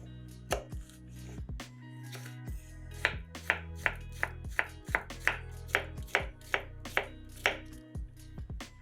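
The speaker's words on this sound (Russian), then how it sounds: "Один большой огурец нарезаем сначала пластинками вдоль, а затем режем кубиками." A knife chops a large cucumber into cubes on a board, giving a steady series of crisp, close knocks that speed into a regular rhythm, with no talking.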